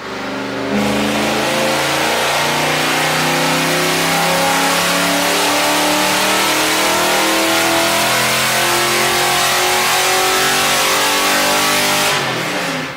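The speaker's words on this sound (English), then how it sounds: "And here's a clip of the dyno run." Foxbody Mustang engine on a chassis dyno run, a loud continuous roar climbing steadily in pitch through the gears for over ten seconds before cutting off, close and without talk.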